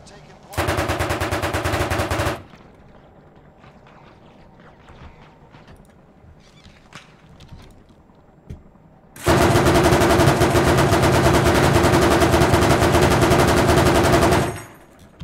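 Sustained automatic machine gun fire in the video game Arma Reforger, a short burst of about two seconds, then scattered quieter shots and clatter, then a long loud continuous burst lasting around five seconds.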